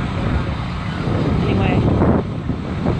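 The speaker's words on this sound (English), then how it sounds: "Cold, windy, and blowy out here." Gusty cold wind buffeting a microphone outdoors at a restaurant fire, a low rumbling roar, steady and fairly loud, with some faint background noise mixed in.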